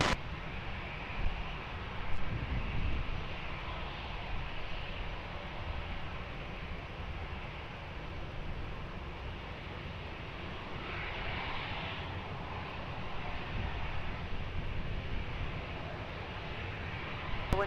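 Heavy airliner taking off at Lisbon Airport, a sustained distant jet roar with a slow swell and fade in the engine tone, steady and unbroken, without voices.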